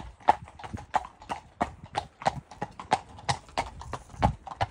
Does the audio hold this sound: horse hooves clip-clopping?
yes